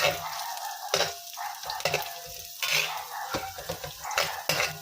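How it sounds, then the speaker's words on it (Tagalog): Beef sautéing in a pan with garlic and onion, a continuous close sizzle broken by metal utensil scrapes and clinks against the pan as the meat is stirred. "Lalagay ko ang baka gigisa muna natin para mas malasa."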